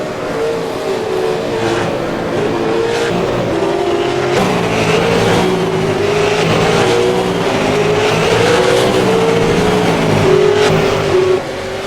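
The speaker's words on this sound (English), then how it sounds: "we'll see some side-by-side action between these two cars" V8 Supercar race cars battling side by side on the Montreal circuit in iRacing, engines droning loud and steady with rising and falling revs as they run close together throughout.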